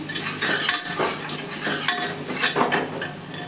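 Vegetables for Punjabi aloo matar being stirred with Kashmiri red chilli powder in a pressure cooker, a steady scraping stir over a low sizzle with clinks of a spoon against the metal, close and continuous with no talking.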